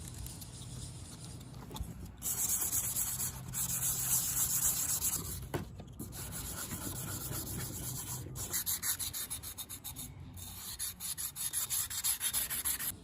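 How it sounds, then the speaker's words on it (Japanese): A palm sander with 120-grit paper works the blade of a cheap hundred-yen kitchen knife being remade for camping, giving a continuous loud rasping rub with brief pauses and restarts. "再び120番をパームサンダーでかけた後は"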